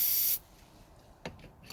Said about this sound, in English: I'm gonna spray another amount in there to help it start again